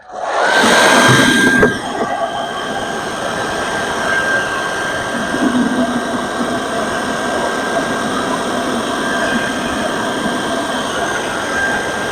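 A hairdryer used as a heat gun on a 2005 Honda CBR1000RR cuts in with a close, loud burst of blowing air, then settles into a steady whooshing hum with a thin whine that runs unbroken to the end.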